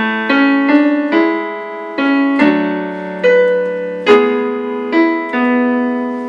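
A piano plays a short phrase of separate notes at a moderate, even pace, each note ringing and blending into the next, with no talking.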